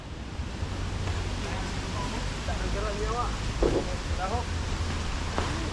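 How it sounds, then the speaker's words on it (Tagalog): Strong wind blows across an outdoor boat-building site as rain approaches, a steady broadband roar with a low rumbling undertone, with a few faint voices and short chirping sounds mixed in. "Grabe sa hangin, oy."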